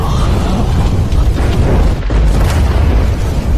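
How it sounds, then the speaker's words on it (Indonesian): A deep, rumbling explosion erupts inside a sect in an animated fantasy story, a loud sustained blast that fills the whole moment with low roaring noise. "Terjadi ledakan dari dalam sekte boneka Yin."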